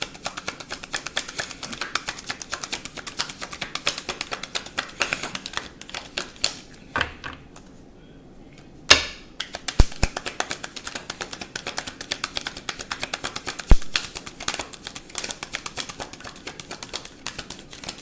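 Rapid crisp riffling and flicking of tarot cards being shuffled, continuous and close, with a brief pause midway and a few sharper taps.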